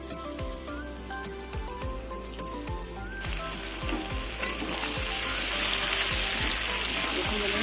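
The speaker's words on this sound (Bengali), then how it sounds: "সবজিগুলো ভাজা হয়ে গেছে" Vegetables for a Bengali pui shak ghonto with katla fish head fry and get stirred in an oily pan, a steady sizzle with regular scraping strokes of the spatula that grows louder and fuller partway through.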